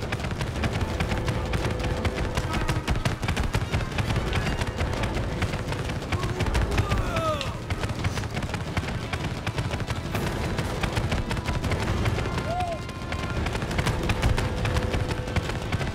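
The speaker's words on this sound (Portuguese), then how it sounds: "Quanto tiro!" Dense, continuous gunfire in the video game It Takes Two, with rapid shots and distant booms, loud and sustained throughout without pause.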